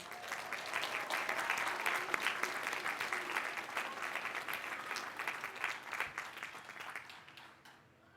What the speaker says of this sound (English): please join me in a round of applause to say congratulations to all of our valedictorians